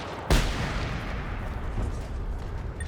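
A single sharp, loud mortar blast in the video game Generation Zero, followed by a long rumbling decay and low background noise, with no speech.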